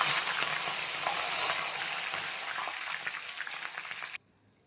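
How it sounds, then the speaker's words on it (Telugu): Green chillies and curry leaves deep-fry in hot oil, a loud, dense sizzle that bubbles continuously and gradually fades before cutting off abruptly near the end. "నెక్స్ట్ అదే ఆయిల్లో ఈ పచ్చిమిర్చి కరివేపాకు కూడా డీప్ ఫ్రై చేసుకుందాం"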